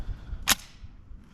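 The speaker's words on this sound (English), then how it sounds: "We're gonna hip fire this down low now." A single sharp gunshot from a gun fired from the hip at an outdoor shooting range, one loud crack with a quick decay, alone without talk.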